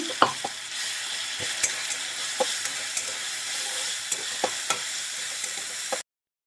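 Onion paste for Telugu-style egg pickle fries in a pan with a steady, close hiss, punctuated by regular light scrapes and taps of a spoon stirring it; no voices.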